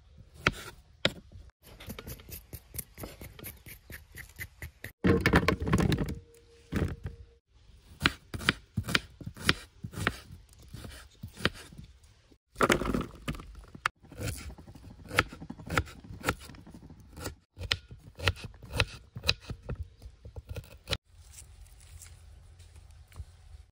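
Chillies, tomatoes, coriander and onions chopped with a knife on a board, rapid close rhythmic chops in bursts with short pauses between runs.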